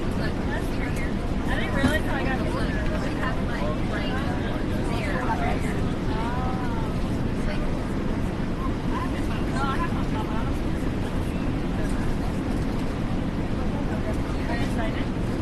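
An airliner engine runs steadily in Microsoft Flight Simulator 2024 at Bergen, a continuous broad rumble and whine under intermittent spoken cockpit callouts.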